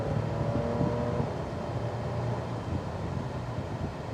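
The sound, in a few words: Toyota FJ Cruiser accelerating on the road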